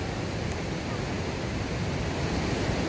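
Water pours over Li Phi Falls in Champasak, Laos, in a constant, dense roar with no breaks. The sound is loud and steady, with faint wind buffeting against the microphone.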